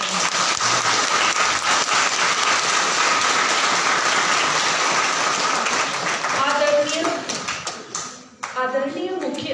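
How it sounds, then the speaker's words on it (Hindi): Loud, sustained audience applause at an agri-fest event at a government horticulture venue, dense clapping throughout that thins out near the end as voices come through. "जोर से तालियां बजाएं।"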